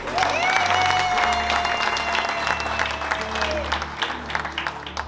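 Guests at a traditional Burundian wedding applaud together, a sustained crowd clapping under a held sung or sustained tone and low drumming, with voices mingling in the background.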